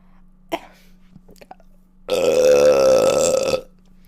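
One long, loud, drawn-out burp from a woman, close up and lasting about a second and a half, after a few small clicks and a faint sound.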